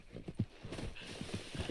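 Horse hooves in Red Dead Redemption 2 on PS5, a quick run of close clip-clopping beats in a steady galloping rhythm lasting under two seconds.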